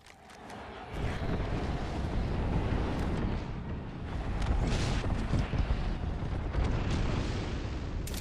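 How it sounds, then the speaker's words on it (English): A video game airstrike lands as a sustained roar of rumbling, overlapping explosions, building after a quiet first second and rolling on heavily to the end with a few sharper pops. "Airstrike en route."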